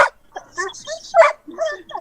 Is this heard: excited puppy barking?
yes